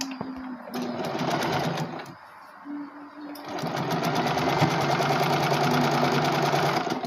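Sewing machine stitching the folded hem of an umbrella-cut skirt, running in steady bursts with a short pause partway, close and fairly loud, its rapid needle rattle over a low motor hum.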